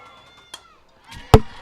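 A sharp, loud crack from a foul ball hitting near the crowd microphone at a high school softball game bursts out close by after a faint earlier knock, over quiet ambient crowd murmur.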